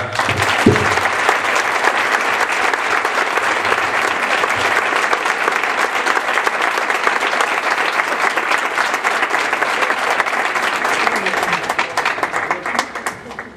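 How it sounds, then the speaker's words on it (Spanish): A full audience applauds mountaineer Carlos Soria Fontán at a mountaineering and documentary film series in Huelma, 2013: loud, dense, continuous clapping filling the hall for over ten seconds before tapering at the end. "Un fuerte aplauso, por favor, para Carlos Soria Fontán."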